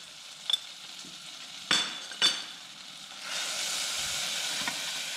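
Clove, cardamom, black pepper and turmeric fry gently on low heat for ginger milk, with a quiet steady sizzle that swells near the end and a few sharp utensil clinks. No voices.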